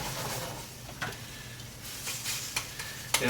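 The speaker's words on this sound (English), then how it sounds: "really what you wanna do is get those pieces of chipotle stirred up in that" Chipotle is stirred into a mango nectar braising liquid with chicken in a pan, giving a steady soft sizzle with a few light spoon scrapes and knocks, close by with no talking.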